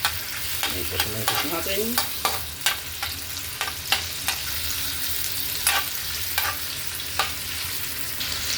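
Sliced ginger sizzling in oil in a pan for a Chicken Bicol Express dish, a steady fry under repeated scrapes and taps of a stirring utensil, with a brief spoken remark.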